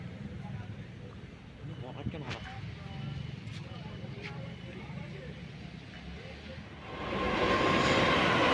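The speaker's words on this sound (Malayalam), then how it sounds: "ഈ വിട്ടടച്ചു പോകുന്നത് നമ്മുടെ പരശു ആയിരുന്നു കേട്ടോ" The Parasuram Express rumbles through a village railway station at Mayyanad in Kerala, a low, steady rolling drone that swells louder near the end, with someone talking over it.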